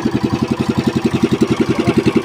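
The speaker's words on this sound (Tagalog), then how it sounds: "Ganda pa ng tunog ng makina oh." A nearby engine idling while warming up, loud and steady with a quick, even chugging pulse throughout.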